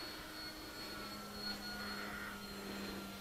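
A model Be-12 seaplane flies overhead with its engine throttled down, holding a steady, moderately distant whining hum with faint tonal drone and no voices.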